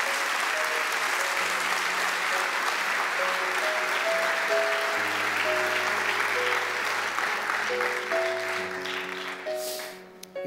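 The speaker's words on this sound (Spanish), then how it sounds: "Dale un aplauso al Señor" A church congregation claps in a long, full round of applause while sustained keyboard chords play underneath, the clapping easing off near the end.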